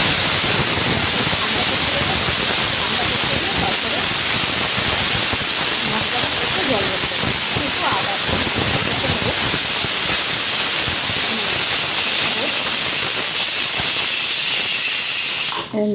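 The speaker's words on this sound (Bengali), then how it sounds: "এই তো সিটিটা হয়ে গেল।" Pressure cooker whistle releasing a loud, steady hiss of steam while cooking chana dal, continuous and close for the whole stretch before cutting off at the end.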